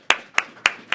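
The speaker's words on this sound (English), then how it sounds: "please join me in giving Professor Knock a round of applause" Four sharp, evenly spaced hand claps ring out close and fairly loud, a small, brief burst of applause for a professor at a tech talk, with no voices over them.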